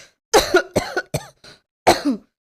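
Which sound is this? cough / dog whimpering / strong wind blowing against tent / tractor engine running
cough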